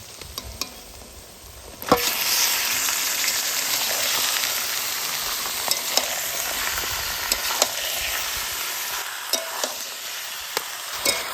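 Chicken added to softened chopped onions in hot oil for a saluk chicken masala curry, a sudden loud steady sizzle that holds for several seconds with faint stirring clicks.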